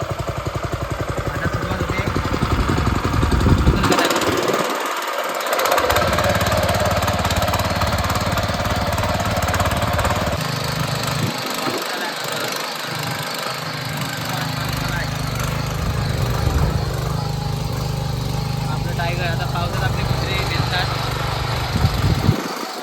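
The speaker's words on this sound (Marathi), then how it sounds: "ट्रॅक्टर चालू करते बघा कुणालदा ट्रॅक्टर चालू झालाय" A steady, loud tractor engine chugs and rattles throughout during rice planting in Konkan, with the low rumble briefly dropping out and returning; voices are faintly audible over it.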